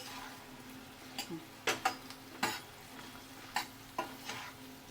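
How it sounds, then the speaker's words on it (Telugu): Sliced okra fries quietly in a little oil, with soft sizzling under a series of sharp ladle taps and scrapes against the pan as it is stirred. "కొంచెము నూనెలా వేగాలి ఇవి"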